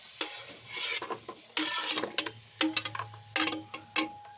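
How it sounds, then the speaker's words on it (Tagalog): Garlic and onion sautéing in oil in a cooking pot, with repeated close, sharp spoon stirs and scrapes over a light, steady sizzle. "Ngayon, ilagay na natin ang bawang at sibuyas."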